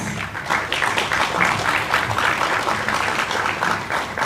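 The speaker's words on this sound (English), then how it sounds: "Let's give them another round of applause." Audience applause fills a real estate industry conference hall, a steady wash of many hands clapping close and continuous throughout, with no talk over it.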